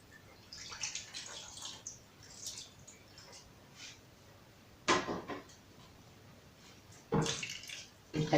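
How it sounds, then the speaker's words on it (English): Water is added little by little to a pot of mushroom soup, heard as a few short, fairly quiet splashing pours spaced apart with faint kitchen background between them. "And then I'll add water."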